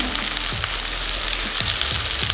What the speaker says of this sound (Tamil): இது நல்லா கோல்டன் ப்ரௌனாக ஃப்ரை ஆகட்டும்.